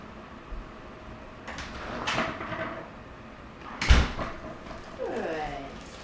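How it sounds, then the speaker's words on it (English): A household door is slid or swung open and shut a couple of times at moderate distance, with soft rolling and thudding movements amid quiet room noise and brief voices. "Start by slowly letting her hear the sounds of the door."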